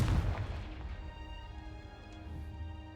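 A Confringo fire spell blast from the game Hogwarts Legacy opens with a heavy booming burst, which then fades into a low rumbling tail that lasts for a few seconds.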